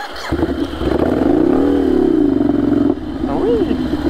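A motorcycle ridden during licence practice revs close by, its engine pitch climbing and falling in a smooth arc before settling into a steady rumble, while a rider talks over it.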